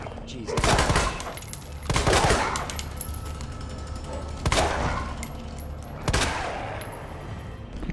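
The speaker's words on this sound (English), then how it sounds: "Okay, single shots work better." Single gunshots in Resident Evil 2 Remake, four loud sharp cracks spaced a couple of seconds apart, each with a short ringing tail, over a low game ambience.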